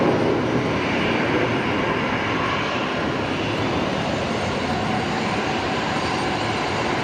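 Qantas airliner in special Oneworld livery at Brisbane Airport, a loud steady roar of jet engines filling the whole stretch with broadband rumble and no let-up.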